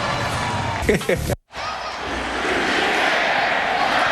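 Broad crowd noise swells through a Charlottesville football stadium as the homecoming crowd cheers Virginia back into the lead against UConn in 2007. A voice rises briefly over it before a short cut, then the steady roar returns.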